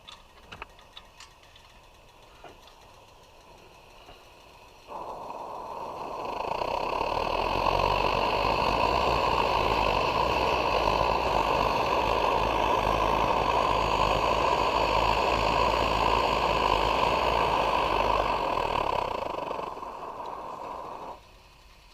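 An Optimus 8R camping stove burns with a steady roaring hiss that swells after a few quiet seconds, holds evenly for about fifteen seconds, then fades near the end.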